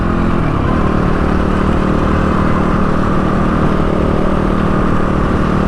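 A motorcycle rides along an open road at a steady cruise, its mid-pitched engine drone loud and close throughout, mixed with constant wind rush and no talk.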